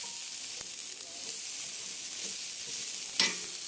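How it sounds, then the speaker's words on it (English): Java-crusted New York strip steaks and asparagus searing in a hot pan, a steady close hiss of sizzling with a few soft clicks and one brief louder crackle. "I'm going to let these sear for about 3, maybe 4 minutes per side"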